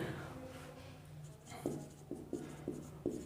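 Chalk or marker strokes on a board during a mechanics lecture, a series of short sharp taps and scratches in the second half, fairly close, with faint background room noise.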